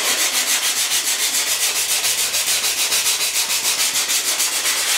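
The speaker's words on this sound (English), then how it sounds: "And then this just sands really nicely." Steady, rhythmic scratchy rubbing of a sanding block on wood, with even back-and-forth strokes at close range, no voices.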